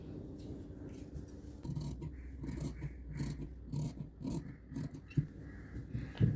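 Scissors cut the neckline into a kurti fabric piece with a series of quiet, close snips and rubbing fabric sounds, no talking.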